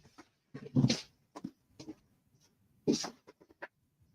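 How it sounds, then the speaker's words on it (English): A dog barks close by in a few short, irregular bursts, two of them louder, with quieter yips and whines in between. "What are you barking at?"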